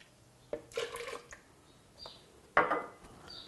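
Milk poured into a blender for spinach pancakes gives two short bursts of splashing and clinking, close and fairly quiet, with no talk.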